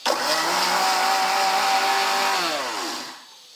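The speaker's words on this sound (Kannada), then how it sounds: "ಇವು ಮಿಕ್ಸಿಗೆ ಹಾಕಿ ರುಬ್ಕೊಂಬರ್ತೀನಿ ರೀ" A mixer grinder whirs loudly as it grinds ingredients, a steady high-pitched motor drone that holds, then winds down and fades at the end.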